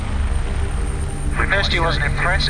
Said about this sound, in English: medical helicopter HEMS 1 is lifting, runway 18 for departure to Melbourne.